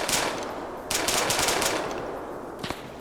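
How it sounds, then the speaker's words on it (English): Submachine gun fire in a multiplayer Indochina war game, two rapid, fairly muted bursts heard close and clear with no talk over them. "Fires some shots that way."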